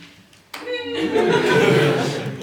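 A comedy club audience breaks into cheers, whoops and clapping after a brief quiet moment, with the mixed crowd noise swelling quickly and holding loud and close.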